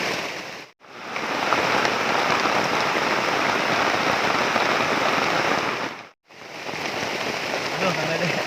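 Heavy rain pours onto a camp shelter in a forest as a loud, steady hiss of drops drumming on the surface, broken by two brief silent gaps.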